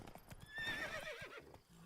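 Roach, a horse in The Witcher 3, gives a loud whinny over a few close hoof clops, then its hooves continue briefly afterward.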